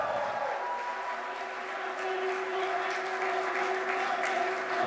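Audience at a closing keynote of a tech conference clapping steadily in a sustained round of applause, fairly distant and even, with a faint tonal hum beneath it.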